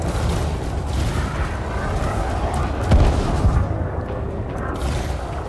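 Muffled booming blasts and rumbling explosions from frag cannons in Elite Dangerous space combat over a dense noisy background, with a couple of stronger hits near the middle.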